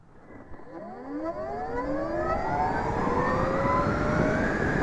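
A 2024 Zero FXE electric motorcycle, an A1-class 125 cc equivalent, accelerating hard from standstill, its motor whine climbing steadily in pitch and growing louder over about five seconds, with road and wind noise rising beneath.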